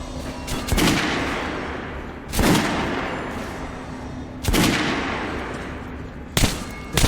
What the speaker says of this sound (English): Head over to my range and try out those guns.